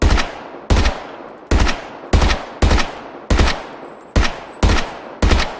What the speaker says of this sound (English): I'm shooting at a distance with an SMG.